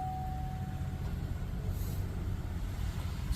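A Chevrolet Silverado truck's engine idles after a push-button start, a low steady rumble with a faint brief tone early on and a soft hiss midway, no talking.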